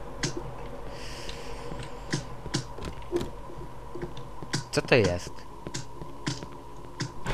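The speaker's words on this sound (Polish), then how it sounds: "Muszę sobie kupić cichszą klawiaturę." A loud computer keyboard clatters with rapid, uneven clicks throughout while someone plays the horror game Cry of Fear, mixed with game sounds and a voice talking over it.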